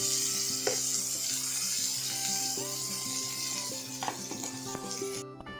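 Potatoes and eggplant frying in oil in a wok, a steady close sizzle with scraping stir sounds and a few clinks of a utensil against the pan, and tonal noise ringing in the background.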